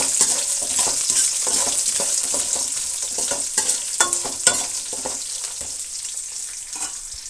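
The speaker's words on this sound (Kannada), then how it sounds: "ಈರುಳ್ಳಿ ಚೆನ್ನಾಗಿ ಫ್ರೈ ಆಗಬೇಕು" Chopped onions fry in a pan, a close, bright, continuous sizzle with rhythmic scraping strokes as they are stirred. No voices.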